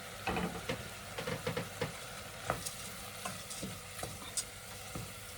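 A spoon stirs rice porridge in a pot after the rice has been sautéed, making close, irregular scraping and clinking strokes over a faint sizzle, with no voices.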